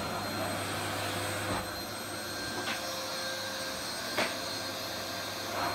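An Asda ASV-17 vacuum cleaner runs steadily on carpet, a loud continuous motor whine and airflow roar with a few brief scraping bumps as it is pushed, no talk.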